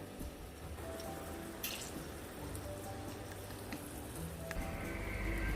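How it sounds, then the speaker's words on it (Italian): Halved garlic cloves fry in about four spoonfuls of extra virgin olive oil in a pan, giving a faint, steady sizzle with light crackles throughout. "mettiamo circa 4 cucchiai di olio extravergine e 3 spicchietti di aglio. Li tagliamo a metà e li facciamo soffriggere."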